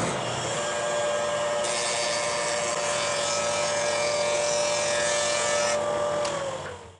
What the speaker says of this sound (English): run the saw cut edge over the cutter head so that now both edges are cleaned up